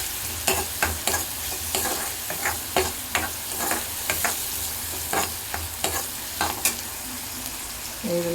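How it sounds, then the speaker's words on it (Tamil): Mushroom masala sautéing in a pan over a medium flame, a steady sizzle broken by repeated clattering stirs and scrapes at an irregular rhythm, close and fairly loud with no talking. "நல்லா பொன்னிறமாக மீடியம் ஃப்ளேமில் வச்சு நல்லா வதக்கிக்கலாம்."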